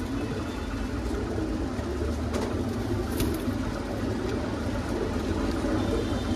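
Punjabi pigeons, including a hen, cooing in a low, continuous murmur among the flock, with faint background hum and a few brief clicks, no speech.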